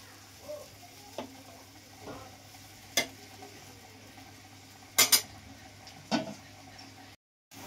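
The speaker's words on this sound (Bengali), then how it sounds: "গ্যাসের ফ্লেমটা হাই করার পর দেখছেন এটা আপনার ফুটে এসছে" Eggplant curry bubbling in a pan over a high gas flame, a soft low simmer punctuated by several sharp clinks and scrapes of a utensil against the pan.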